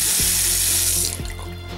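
Water from a repaired bathroom sink faucet runs in a steady hiss, then cuts off near the end, leaving faint drips and a lower splash.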